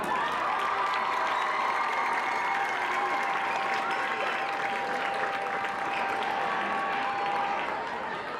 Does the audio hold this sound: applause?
yes